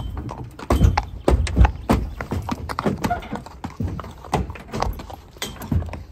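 Three horses being unloaded from a trailer at an international show, their hooves clip-clopping in a steady uneven rhythm on a hard floor, close and fairly loud, with a brief whinny and faint movement around them.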